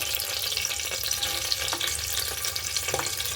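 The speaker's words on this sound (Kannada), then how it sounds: "ಈರುಳ್ಳಿ, ಬೆಳ್ಳುಳ್ಳಿ ಹಾಕ್ಕೊಂಡು ರೋಸ್ಟ್ ಮಾಡ್ಕೊಳ್ಳಿ." Sliced onion and garlic fry in a hot pan for a bitter gourd gojju, giving a steady close sizzle broken by a few scraping stirs, with no talking.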